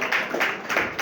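Clapping from a press conference audience greeting the general manager, a few sparse, irregular claps in quick bursts rather than full applause, fairly close and with no talk over it.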